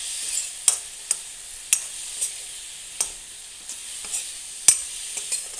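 Spices with coriander powder frying in a pan while being stirred, a steady soft sizzle broken by irregular sharp spoon scrapes and taps, close and clear, with no talking.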